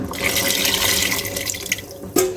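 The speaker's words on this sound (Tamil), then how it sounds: "இப்போ வந்து நான் ஒரு எலுமிச்சப்பழம் அளவுக்கு புளி ஊற வச்சு கரைச்சி வச்சுருக்கிறேன். அதையும் இதிலே ஊற்றிக்கலாம்." Soaked tamarind water pours into a pot of Muslim-style dalcha as a close, continuous splashing stream for about two seconds, ending with a brief clink.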